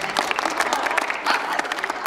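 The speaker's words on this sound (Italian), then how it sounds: "Un applauso." An audience claps steadily through a short stretch at a mass held in a circus tent, dense and even applause filling the space.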